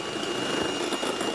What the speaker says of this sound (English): I like to use a mechanical whisk for these because it takes a lot longer to give them a good whisk